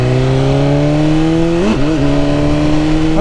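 A BMW S1000RR sport bike with Akrapovic titanium headers, its engine holding a loud, steady, close-up note, then wavering briefly as the revs dip and recover, with no talking.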